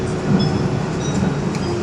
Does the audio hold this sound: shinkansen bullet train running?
yes